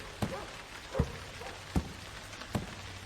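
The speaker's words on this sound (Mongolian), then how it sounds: "За, бороо орж." Steady rain in the game Dread Neighbor hisses across the whole stretch, with a few heavier drip thuds landing at a slow, uneven pace nearby.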